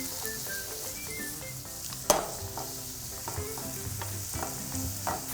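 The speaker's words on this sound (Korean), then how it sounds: "지금부터 뭐냐면 물을 졸여주는 거예요." Udon noodles sizzle loudly as they are stir-fried over high heat while the liquid in the hot pan cooks down. Steady frying hiss and stirring scrapes continue throughout, with one sharp clank from the utensil against the pan.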